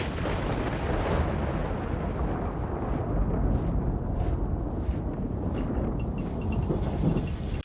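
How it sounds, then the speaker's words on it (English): Steady heavy rain hisses throughout with deep rumbling thunder rolling underneath, loud and continuous like a dramatic movie storm. "of all the times for it to start raining."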